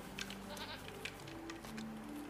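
Sheep in the LEGO Fortnite video game bleat in several short, fairly close calls spaced across the moment, over a steady low game background hum and without talk.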